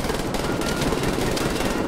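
A weapon in the video game Wolfenstein: The New Order fires in a continuous rapid automatic burst, dense, loud and unbroken for two seconds.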